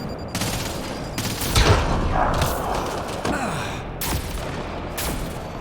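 Sci-fi video game combat brings repeated bursts of gunfire at close range, sharp cracks and rapid volleys arriving in clusters and separated by brief lulls, with strained breathing and grunts mixed in.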